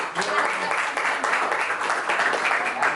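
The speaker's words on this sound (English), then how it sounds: "let's give our speakers a round of applause" An audience at a talk on Arabic and Hebrew claps for the speakers, a steady wash of applause lasting the whole moment at even loudness.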